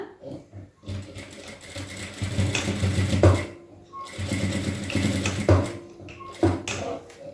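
A sewing machine stitches blouse fabric in several bursts of rapid, steady whirring and clatter, each burst stopping short between pauses, close and fairly loud.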